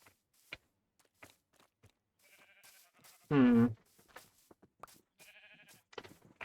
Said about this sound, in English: Let's annoy some sheep.